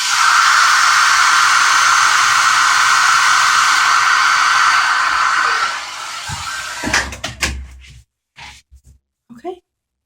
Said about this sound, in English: I'm going to hit the blow dryer one more time just to set these